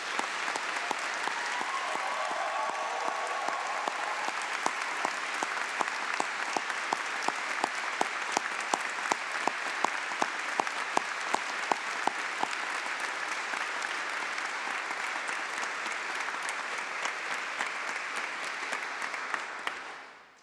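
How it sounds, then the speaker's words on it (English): A large audience applauds steadily for graduating students at a university graduate convocation ceremony, a dense sustained wash of clapping that holds for about twenty seconds before fading out at the end. "Could we have one more round of applause for our students"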